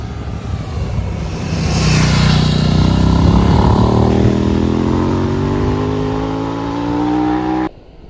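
A KTM 990 Duke motorcycle engine pulls hard while riding, its pitch climbing steadily through a long loud run under wind noise before cutting off sharply near the end.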